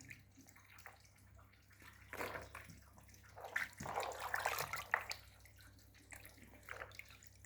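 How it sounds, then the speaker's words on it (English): Items are washed by hand in water while making traditional yogurt, with soft, quiet splashes and sloshing that swell in the middle and trail off into faint trickles. "I'm just washing them, and removing unwanted"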